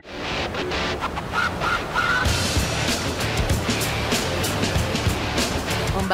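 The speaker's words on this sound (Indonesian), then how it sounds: "Ombak pantai selatan yang besar dan kencang membuat energi saya cepat terkuras." Large, strong waves on a south coast beach, a steady loud roar of surf throughout with a few faint bird-like calls early on.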